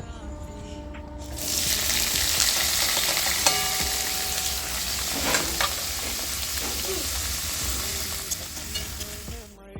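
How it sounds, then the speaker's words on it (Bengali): Capsicum pieces drop into hot oil in a wok and erupt into a loud, close sizzle that continues evenly, with occasional clinks of stirring and no talking. "ওই একই তেলে ক্যাপসিকামগুলোকে ভেজে নেব।"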